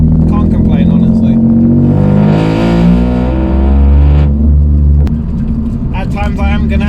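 Stage 2 Toyota Aygo with an aftermarket exhaust and stripped interior, the engine droning and revving loud and close inside the cabin, pitch rising and falling, with someone talking over it.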